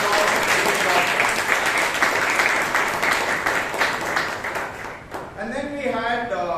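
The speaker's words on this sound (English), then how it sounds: "give the acting sergeant at arms Vishal a huge round of applause" A Toastmasters meeting audience in Bangalore gives a loud, sustained round of applause that fills the room steadily, with a voice starting to speak as the clapping fades near the end.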